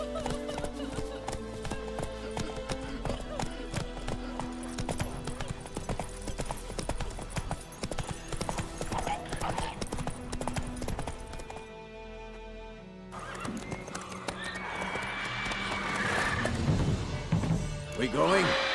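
Hooves of Roach, a horse in the video game Witcher 3, clatter steadily under game music and talk, with a whinny and a crash of clutter near the end.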